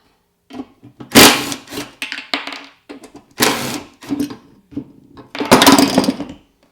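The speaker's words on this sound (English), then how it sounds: "Literally, pull the screws out." A socket backs screws out of the fender plate on a Honda VTX 1300/1800 motorcycle, producing several close, loud bursts of rapid mechanical whirring and rattling separated by short silent pauses.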